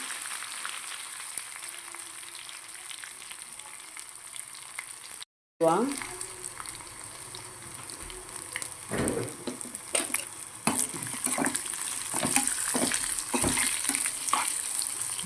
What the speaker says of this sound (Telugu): జీలకర్ర వేసేసుకుందాం. కరివేపాకు, ఎల్లిపాయ, ఎండుమిరపకాయలు,